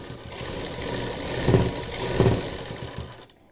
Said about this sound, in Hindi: अब हम यहाँ पर इसको स्ट्रेच करके इसे सिलाई लगा देते हैं।